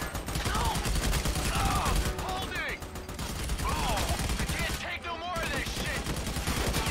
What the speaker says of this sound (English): I have to shoot behind him.